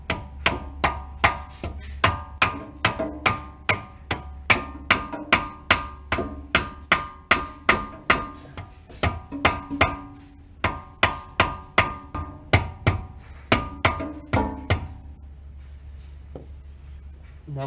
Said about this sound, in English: I'm going to try to use the rubber mallet, see if it'll work.